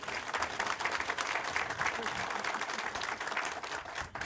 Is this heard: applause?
yes